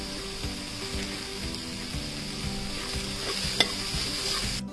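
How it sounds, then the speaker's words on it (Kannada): Cumin and garam masala fry in a pan with a steady close sizzle and soft stirring scrapes, one sharp clink near the end, no voices. "ಮಸಾಲೆ ಎಲ್ಲ ಒಂದೆರಡು ನಿಮಿಷ ಚೆನ್ನಾಗಿ ಹುರ್ಕೊಂಡು ಅದಾದ್ಮೇಲೆ ಉಪ್ಪು ಸೇರಿಸ್ತಾ ಇದ್ದೇನೆ."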